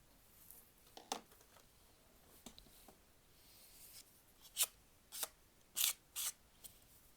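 Scissors cut through paper in a few quiet, separate crisp snips, with faint rustling between them and no talking.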